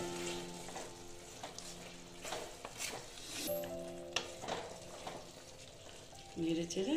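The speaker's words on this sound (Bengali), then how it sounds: "তারপরে দিচ্ছি ঘি, দিয়ে আমি ভালোভাবে নেড়ে চেড়ে" Ridge gourd curry sizzles in ghee while a spoon stirs it, producing continuous frying crackle broken by scraping strokes and a few clatters near the end, with no talk.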